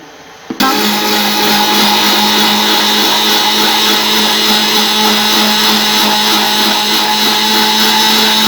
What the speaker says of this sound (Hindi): मशीन को चलते हुए ये 5 टेबलस्पून कुकिंग ऑयल दूध में शामिल करेंगे और मशीन को चलता रहने देंगे